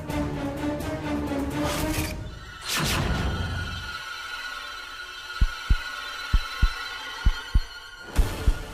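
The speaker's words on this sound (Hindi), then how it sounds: "शिवाय की धड़कनें तो सुनाई दे रही हैं" A heartbeat sound effect in a Hindi TV drama thumps in paired low beats near the end, following a stretch of horse neighing and music.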